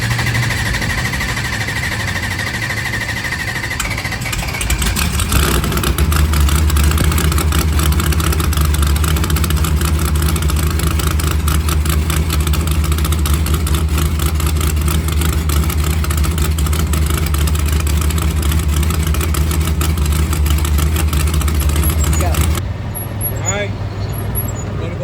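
A race car engine idles while warming up, a deep steady rumble that thickens after a few seconds and holds for about twenty seconds before dropping off, close by with people talking over it.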